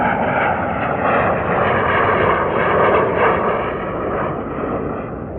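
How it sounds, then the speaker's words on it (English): A de Havilland Comet British jet airliner, flown by John Cunningham, roars overhead in a loud, sustained, broadband jet rush that swells slightly and then eases as it passes. "And now flying over the British jet airliner, the Comet, flown by John Cunningham."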